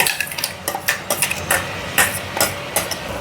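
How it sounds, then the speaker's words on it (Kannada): Spoon or utensil clatters against a pan as a ground spice paste is added to softened tomatoes, giving a quick run of sharp metallic taps and scrapes, close and fairly loud, with no talking. "ಇದಕ್ಕೆ ಇವಾಗ ರುಬ್ಬಿಟ್ಕೊಂಡಿದ್ವಲ್ವ ಆ ಮಿಶ್ರಣನ ಸೇರಿಸ್ಬೇಕು."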